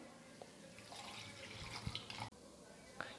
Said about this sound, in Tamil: இப்போ கொஞ்சம் தண்ணி சேர்த்துக்கிறேன்.